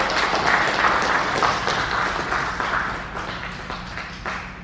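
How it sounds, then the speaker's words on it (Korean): A seated audience at a Korean book launch ceremony honoring Yun Chi-ho applauds steadily in a dense, sustained patter that eases slightly toward the end, filling the hall as guests are welcomed onto the stage. "다 같이 박수로 맞으시기 바랍니다."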